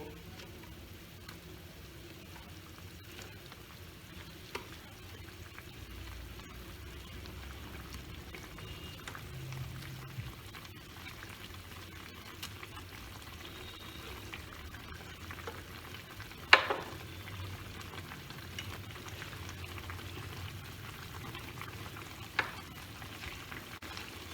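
Eggplant cooks in a thick yogurt sauce for doi begun, giving a faint, low, continuous simmering sizzle with a couple of sharp utensil clinks against the pan.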